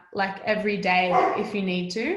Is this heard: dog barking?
yes